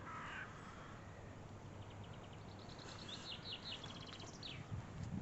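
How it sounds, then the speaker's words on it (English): Crows caw a few times in the distance over steady outdoor ambience at a seaside campsite in Walcott on Sea, Norfolk, with faint chirps from other birds mixed in. "all you can hear again is the birds"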